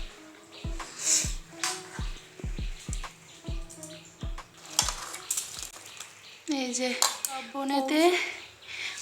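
Spinach and bottle gourd greens being chopped by hand on a board during festival cooking, a run of sharp, evenly spaced knife chops up close, then clattering kitchen noise and other household sounds.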